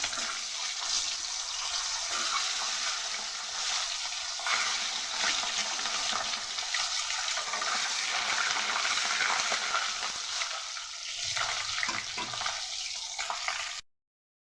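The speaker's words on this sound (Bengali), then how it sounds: "প্রথমে ডিমটাকে একটু ভেজে নিই।" An egg fries in a little hot oil in a wok, giving a steady, close broadband sizzle that runs unbroken with no voices until it cuts off at the end.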